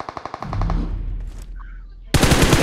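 Rapid bursts of video game gunfire from a match in the Icemire Frontier mode: a quick run of sharp automatic shots, a rumbling lull, then a loud dense volley at close range.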